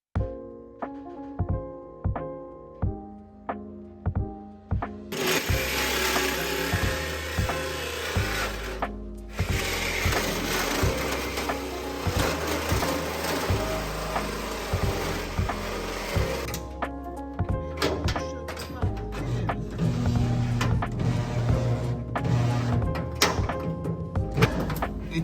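Power tool cutting and notching a steel roll cage tube in a workshop, starting with short clattering bursts, then a loud sustained grinding whine with brief pauses and changing pitch, close and with no speech.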